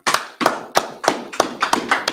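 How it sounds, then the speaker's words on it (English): A few people clap in a loose, uneven rhythm at the start of a Saturday Sabbath service class in Atlanta, with about eight sharp claps close by over two seconds and no talk. "Clap it up."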